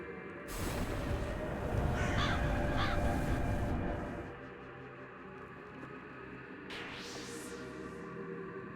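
Crows caw in game audio over a textured ambient bed, a couple of harsh calls early, then another cry later as the background thins.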